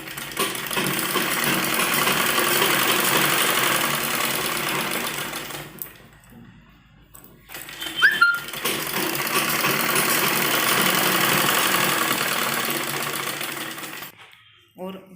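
A sewing machine runs in long steady bursts as two net fabric pieces of a child's frock are stitched together, with a short pause midway and a clatter before it starts again.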